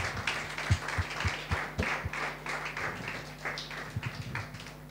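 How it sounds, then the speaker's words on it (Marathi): A church congregation at a Sunday service claps along in a steady, rhythmic pattern, the claps moderately close and fairly soft over a low hum, without speech. "अहो सर्व लोक टाळ्या वाजवा,"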